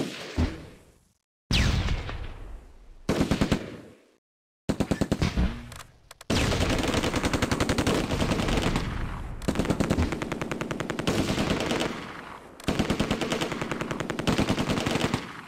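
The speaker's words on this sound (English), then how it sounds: "You got 2 MGs shooting at you." Machine guns in the Close Combat: A Bridge Too Far video game, loud bursts of rapid automatic fire broken by short silences, then sustained rattling volleys continuing to the end.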